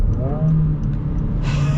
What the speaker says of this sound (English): the rev match downshift is fun